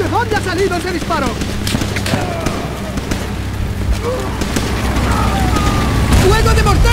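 Booming mortar blasts rumble through a chaotic Call of Duty: World at War battle, with shouted voices and gunfire layered over continuous low explosive noise.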